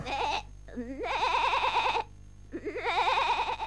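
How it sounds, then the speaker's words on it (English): A cartoon goat in a Dingo Pictures animation bleats in three loud, wavering, vibrato-laden calls separated by short pauses, close and clear with no talk over it. "May I introduce Jolly, the smartest goat in the world?"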